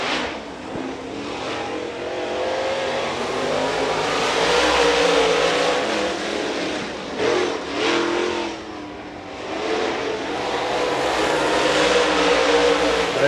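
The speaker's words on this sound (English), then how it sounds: "Next two cars out, the 99 car of Derek Ellis." A super late model race car laps North Georgia Speedway in qualifying, its engine roaring loudly and continuously, swelling and easing as it accelerates through the turns.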